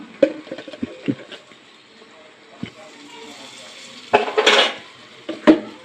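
A spoon scrapes and clanks against a pan while an onion and chili mixture with salt is stirred, Telangana-style onion chili paste; sparse clinks early, then a louder burst of scraping and rattling near the end, with a voice speaking at times.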